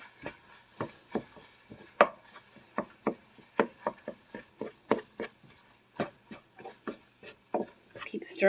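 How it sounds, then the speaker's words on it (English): Beef and onions stirred in a small frying pan, a spoon or spatula knocking against the pan in a steady series of sharp clacks, close and fairly loud. "Keep stirring that beef and the onions."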